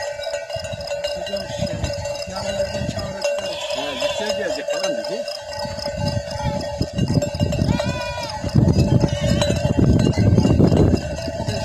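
Sheep and lambs bleat in a flock with cowbells clanking steadily nearby, while people talk over the animals outdoors.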